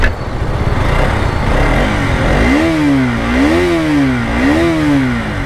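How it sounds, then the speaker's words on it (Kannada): A 2023 BS6 KTM RC 200 motorcycle sits idling in neutral, then its exhaust is blipped through three quick, loud revs that rise and fall in succession, close by and alone. "ಎಕ್ಸಾಸ್ಟ್ ಈ ಥರ ಕೇಳಿಸುತ್ತೆ."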